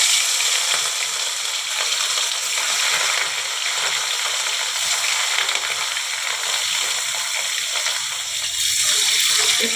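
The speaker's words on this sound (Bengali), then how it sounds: "এই যে আমি এবারে মাছগুলোকে এক এক করে ছেড়ে দেব।" Pieces of rui fish fry in hot oil, giving a dense, continuous loud sizzle that holds steady throughout with faint bubbling and no talk.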